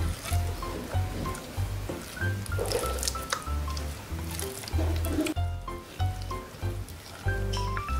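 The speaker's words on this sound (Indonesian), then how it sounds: "masukkan satu telurnya lagi. Aduk hingga adonan benar-benar merata." Choux pastry dough is stirred after another egg is added, giving wet, sticky squelches and soft slaps in a steady rhythm, close up, with faint background music and no talking.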